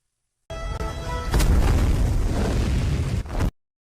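A missile blowing up in the Indian action film Pathaan: a loud, sustained roaring blast that rumbles for about two seconds before cutting off abruptly, with no speech.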